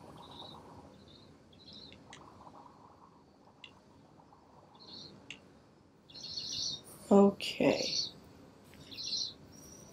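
Birds chirp in short high bursts around a feeder in the video game Alba: A Wildlife Adventure, faint at first and then louder, while a person speaks briefly.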